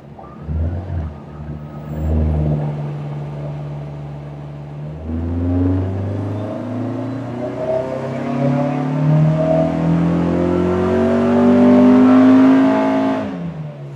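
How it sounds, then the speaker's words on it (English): A Honda engine tuned through Hondata KPro idles, then makes a full-throttle dyno pull, its loud engine note climbing steadily in pitch for about eight seconds before dropping off, with no talking. "let's try a full throttle pull and build out our lambda overlay for the 20 degree cam angle table"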